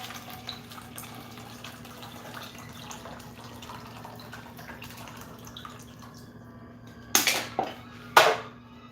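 Water runs steadily from a tap while painting, a soft continuous trickle with a low hum beneath, followed near the end by a few sharp splashes or clatters.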